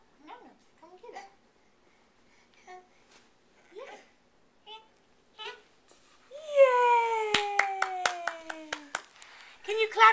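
A small child babbles in short bursts, then claps their hands about eight times in a quick, close series, sharp individual claps over a sliding tone and some background voices.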